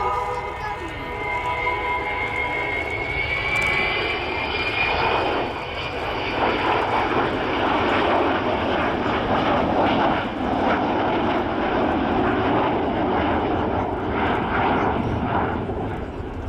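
Avro Vulcan XH558 delta-wing jet bomber making a flying display at an air show, its engines roaring loudly and continuously with a rising, sweeping pass that swells toward the middle and stays strong throughout.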